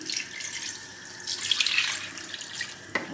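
Water runs from a tap into a pot while goat colombo is being cooked in a Guadeloupe kitchen, a steady broadband pour lasting a few seconds with a brief sharper splash near the end.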